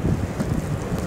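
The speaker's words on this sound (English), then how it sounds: "The wind is blowing hard." Strong blizzard wind buffets an outdoor microphone in a downtown street during heavy snow, a steady loud low roar with gusty surges throughout and no talking.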